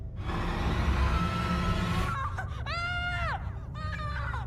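A man in a horror film shrieks at full force, a long loud cry breaking into rising and falling wails toward the end, heard over a dense dramatic background score.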